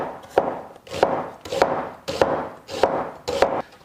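A knife chops spring onions, scallions and onion with a little ginger and garlic on a cutting board. Six evenly spaced, crisp thuds come about every 0.6 seconds, each followed by a short scrape, close-up and clear.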